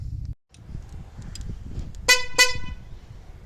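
Two short, thin, high-pitched car horn toots sound in quick succession over a low engine rumble.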